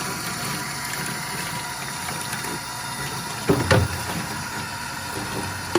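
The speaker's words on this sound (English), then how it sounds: "We're just going to run this under some soapy water" A foam air filter from a Yamaha TTR110 dirt bike is rinsed under running soapy water, a steady close hiss of flowing water with a louder splashing burst midway.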